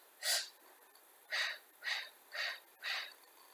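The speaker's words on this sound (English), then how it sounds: "A staccato way of breathing requires you to have labored breaths." Short, labored breaths taken in a staccato pattern during a guided breathing exercise, five quick puffs of air spaced about half a second apart, close and clear with no talking.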